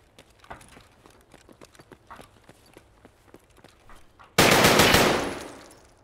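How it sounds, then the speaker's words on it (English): Rapid gunfire from a shooting video game, a run of sharp clicky shots ending in a sudden loud burst of noise that fades over about two seconds. "now he's shooting at me"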